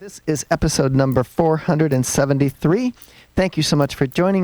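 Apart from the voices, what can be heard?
No everyday noises stand out.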